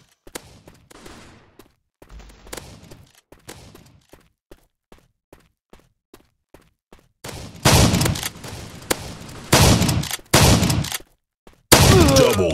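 An automatic gun fires in a video game: soft taps and footsteps at first, then several loud, rapid bursts of gunfire in the second half, separated by short pauses.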